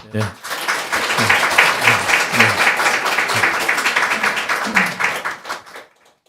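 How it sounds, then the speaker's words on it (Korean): A church congregation breaks into sustained applause during a Sunday service, dense clapping filling the room for several seconds before fading out. "백순동 성도님이 집사 직분 받는 것을 동의하시면 박수로"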